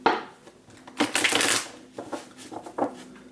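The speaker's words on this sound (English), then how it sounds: "Now I'm going to go into my shuffling phase here." Tarot cards being shuffled up close in quick riffling bursts, with short pauses and a few light taps between them.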